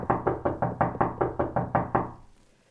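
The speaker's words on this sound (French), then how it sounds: "Alors cognons à la porte de Mimi Coquelicot." Ten firm, evenly spaced knocks on a door, loud and close, each a hollow thud at a steady quick rhythm, with the last knock fading into quiet.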